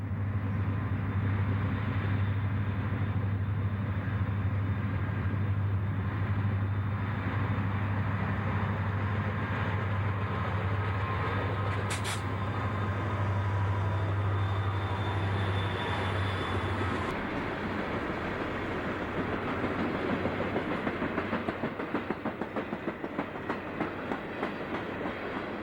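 A Union Pacific SD-40 unit rolls through in the middle of a freight train on former Central New Jersey tracks, a loud steady rumble with a strong low engine drone and wheel clatter that shifts character as the cars roll on.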